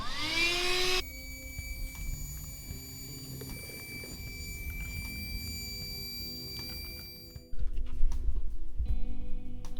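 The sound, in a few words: vacuuming dirt, sand and debris out of vehicle floor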